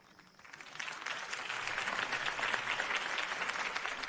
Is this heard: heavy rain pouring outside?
no